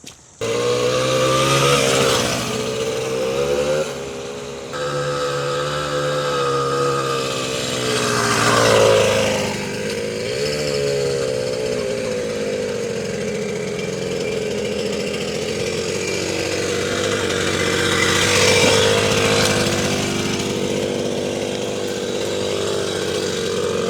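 The small engine of a 1974 Honda Elsinore MR50 mini motorcycle buzzes loudly and continuously during a riding demo, its pitch rising and falling as the throttle is worked.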